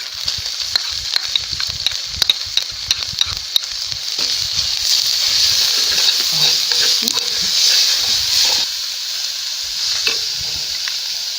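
Onions frying in a little oil with sautéed garlic and ginger, a steady close sizzle and hiss with scattered clicks and scrapes of stirring throughout.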